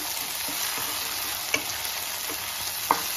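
Tomato pieces fry for chicken sherva, a steady close sizzle with occasional light stirring taps and scrapes, continuous and without talk.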